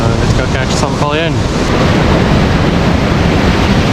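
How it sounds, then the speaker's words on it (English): Ocean waves rolling onto a West Coast shore, a continuous loud rushing surf mixed with wind buffeting the microphone, close by, with a short burst of voice at the start. "you can see the waves are coming in here on the right,"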